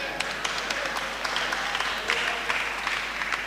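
A crowd claps steadily at a church gathering for a healing testimony, the dense patter of many hands continuing evenly throughout at moderate volume with no words spoken.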